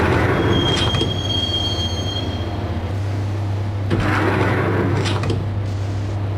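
A train carriage rides along on a subway line in the video game Max Payne, with a steady low rumble, metallic wheel squeals and a hissing burst near the middle.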